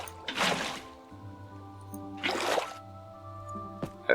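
Water being placed to form an infinite water source in a block-building tunnel game splashes in two loud whooshing bursts about two seconds apart, with a low steady hum underneath and a short click near the end.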